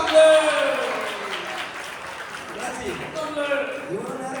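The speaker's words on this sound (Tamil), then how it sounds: "கைத்தட்டாங்க அதிகமா வருது" An audience claps at a Sunday School annual day programme, the applause swelling loudly at the start and then continuing unevenly under a talking voice.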